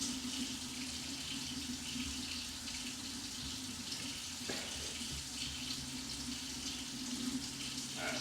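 A kitchen sink tap runs warm water in a steady, close hiss that continues throughout, fairly quiet, with no talking.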